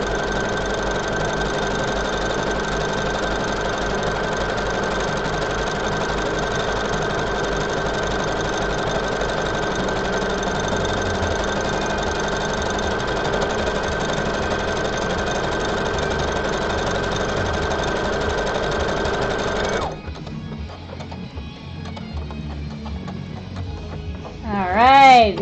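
A sewing machine runs at a steady, continuous rapid whir while stitching buttonholes, then stops for quieter clatter before a brief final burst.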